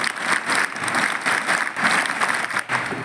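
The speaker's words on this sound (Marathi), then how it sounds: "कमलताई साहेबांसाठी टाळ्या" A school audience gives Kamaltai a round of applause, a thick, continuous clatter of many hands clapping with slight surges and dips, loud and close, no voices over it.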